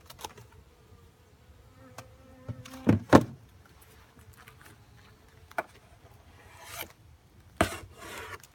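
Honeybees buzz faintly around an opened hive during an inspection, and sharp scraping and clicking from the handled hive boxes intermittently cut through the low hum.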